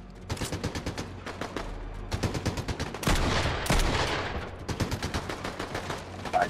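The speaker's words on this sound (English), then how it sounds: "People shooting over here, actually." Fortnite gunfire crackles in rapid automatic bursts and scattered single shots, some close and some farther off, in a busy firefight.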